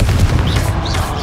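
A short, dense burst of crackling gunfire-like blasts from the Confringo blasting spell in Hogwarts Legacy, loud and close and continuing without pause.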